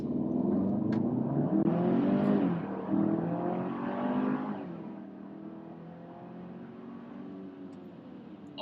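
A Kia Sorento SX accelerates from a standstill to 60 mph in sport mode, its engine note climbing through a couple of gear changes inside the cabin, strong at first and then settling to a quieter cruising hum.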